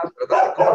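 A small mixed-breed dog barks indoors at home, a few quick yaps close by and fairly loud, with no talking over it.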